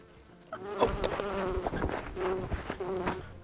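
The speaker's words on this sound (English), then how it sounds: "We just ran away from this bee, and he's still trying to get in, and it's ramming itself into the glass" A bee buzzes near glass with scattered tapping thuds as it rams itself against the pane, the insect drone rising and fading in short bursts over roughly three seconds, fairly close and moderately loud.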